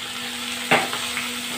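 Bhindi (okra) fry with spices crackles softly in a pan over medium flame, with one brief scrape of stirring and a couple of lighter touches over a faint steady hiss, no voices.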